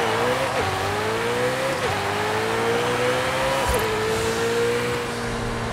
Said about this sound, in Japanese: 一応 V8 ですからね、 V12 のレーシングカーとは音が違います